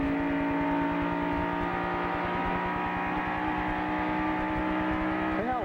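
A NASCAR stock car at Daytona leaves the pits and holds a high-ratio third gear, its engine a loud, sustained, steady drone that rises slightly in pitch near the end.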